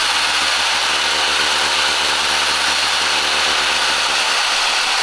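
Coarse 80-grit sandpaper worked over the edges of a car taillight lens during a custom clear taillight build for an Audi, giving a steady, loud broadband rasping hiss that runs continuously throughout with no talking.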